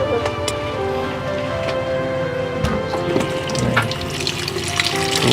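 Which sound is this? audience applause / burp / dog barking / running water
running water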